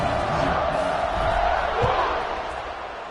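A college football crowd in a stadium roars and cheers as Memphis gets ready to kick off against UAB, a broad, steady wash of distant noise with a small swell near the middle.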